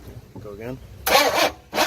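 A long-dormant Pontiac Trans Am cranks and catches after sitting for more than 20 years on freshly added gas, two loud bursts of starting noise following quieter talk.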